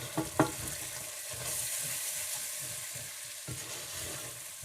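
Chicken frying in a pan with lemon juice, mandi spice, turmeric and a stock cube, a soft steady sizzle with a few sharp clinks of a spoon as it is stirred, quiet and close.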